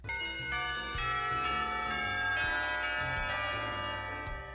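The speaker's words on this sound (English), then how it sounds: "After a while, the bell rings" A school bell in the visual novel Katawa Shoujo rings with sustained, layered metallic chime tones, moderately loud and steady, with no voices over it.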